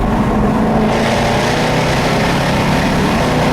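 A 2015 Jaguar F-Type R Coupe engine roars steadily and loudly throughout, a dense continuous rumble with no pauses.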